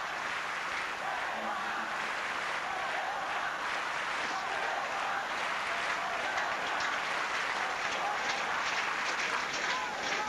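A large tennis crowd roars and applauds for Edberg in a sustained, dense wash of clapping and cheering that holds steady throughout, with commentary faintly underneath.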